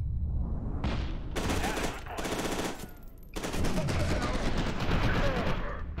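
Rapid automatic gunfire from the video game F.E.A.R. 2 rattles in dense, loud bursts that nearly fill the stretch, with two short breaks between volleys and no voices over it.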